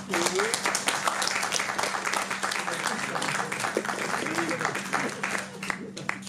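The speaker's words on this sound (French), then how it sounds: "vous pouvez l'applaudir" Scattered clapping from an audience at the Cinéma Interdit film festival runs under a speaker's voice that continues throughout.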